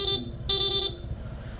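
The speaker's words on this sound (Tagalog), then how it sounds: "stock horn" Two short bright honks from the stock horn of a Honda PCX160 scooter, close and loud, separated by a brief pause, over a low idling engine hum.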